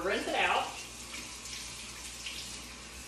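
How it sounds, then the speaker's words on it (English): A sink tap runs while a Norwex counter cloth is rinsed under it, a soft steady water rush close by, preceded by a brief burst of speech at the start. "I'm gonna rinse it out."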